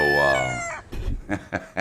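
A person's voice imitates a rooster's crow, a drawn-out, wavering cock-a-doodle-doo up close, followed by a few short bursts of laughter or chatter.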